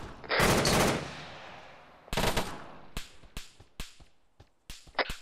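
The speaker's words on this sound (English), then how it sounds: "do you guys see that automatic machine gun?" Automatic machine gun fire in the combat game Arma 3 cracks out in a loud long burst, then another burst, followed by scattered single and double shots, sharp and close.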